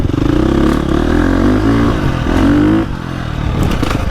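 A 2025 KTM 350 XCF dirt bike engine revs up loudly and steadily off-road, its buzzing pitch rising and falling, then dropping back to a rougher idle.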